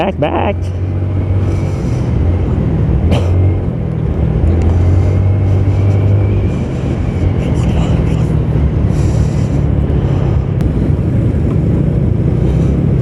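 A motorcycle rides through busy city traffic in Dumaguete, with a steady loud engine drone and heavy wind rush on the microphone throughout, while a rider talks over it.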